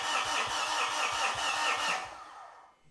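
The starter cranks the engine of a Mitsubishi Fuso FG truck that has a fuel pressure or injector fault. A loud, rapid, even chugging lasts about two seconds, then the cranking stops and fades into quiet.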